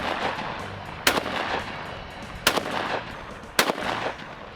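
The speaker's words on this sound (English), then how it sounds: "We're shooting the Spectre mag first, obviously, to make sure the gun functions correctly" Three loud, sharp shotgun blasts from a Canuck Spectre 12 gauge bullpup firing birdshot, spaced roughly a second and a half apart, each with a short echoing tail over outdoor background noise.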